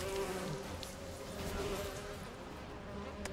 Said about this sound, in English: I can hear some buzzing flies.